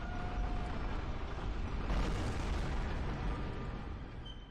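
In the Bloodborne video game, a church cannon blast roars as a loud, dense, continuous rumbling boom that swells slightly in the middle and persists for several seconds.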